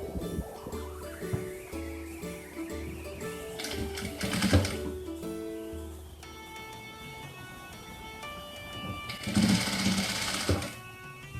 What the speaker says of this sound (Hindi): ये जो सीम होती है ये हमें स्लीव की ओर इस तरह से ऊपर की ओर मोड़कर इसके ऊपर हमें स्टिच लगानी होती है